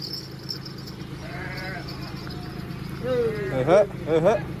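Sheep bleat nearby, a few wavering calls rising over a low steady background hum, with quieter bleats earlier.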